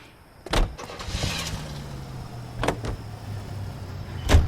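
A car in L.A. Noire, the game: a door thuds shut, a low engine hum starts and holds steady, and a few sharp clunks and thumps follow, all close by with no talking.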